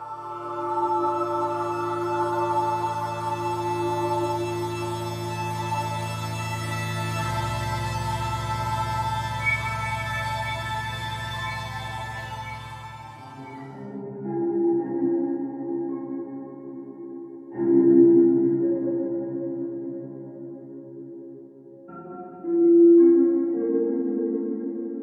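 Two very short, dissonant ambient Minecraft music tracks play alone: a dense sustained drone-like texture gives way to sparse, irregular tonal swells and bursts.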